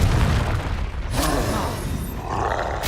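A Confringo spell explosion in the Hogwarts Legacy video game, a loud deep boom with a rumbling roar that fills the clip, followed by a second burst near the end.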